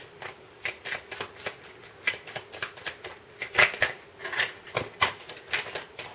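A deck of tarot cards is shuffled up close, quick papery riffles and slaps in an irregular patter of soft bursts, quiet and mostly alone.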